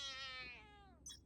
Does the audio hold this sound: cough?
no